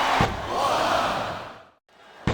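Crowd noise in a wrestling arena swells into a broad roar, fades to near silence, then a sharp slam hits at the end.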